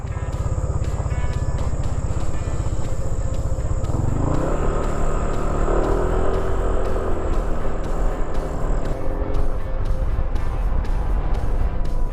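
A Yamaha NMAX V2 scooter engine drones steadily with an uneven, rough rumble from a faulty CVT transmission and a faint high whine, running continuously throughout.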